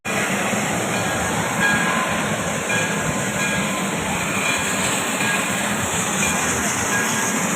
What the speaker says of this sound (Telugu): ఈ రైలు అడవిలోంచి కూడా తీసుకెళ్తుందండి